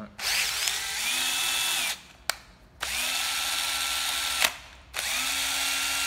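A Japanese power drill runs loudly in bursts, whirring up and settling as it switches between fast and slow speed modes, with brief pauses and clicks between three runs.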